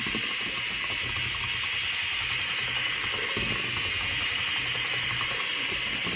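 A huge mixing paddle from a hardware store churns a big batch of mix for a keepsake paw box, a steady, loud, continuous whirring grind with a rhythmic low churn.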